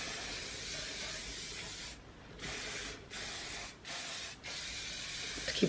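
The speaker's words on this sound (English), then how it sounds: "once you're happy with it, I just hairspray it" Hairspray mists steadily onto styled hair in a continuous close hiss, broken by three brief pauses between sprays.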